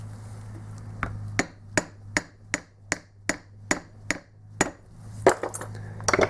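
Hammer tapping a slip ring onto a Valeo alternator shaft during repair, about a dozen crisp, evenly spaced taps near the mic over a faint steady hum, ending in a few lighter irregular knocks, no speech.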